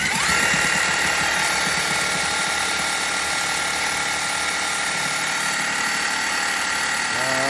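A power drill priming the engine oil pump of a 1968 Oldsmobile Delmont 88, left sitting 30 years, whines steadily at a constant pitch for several seconds, loud and close, with a low mechanical hum beneath and a slight change in tone at the end.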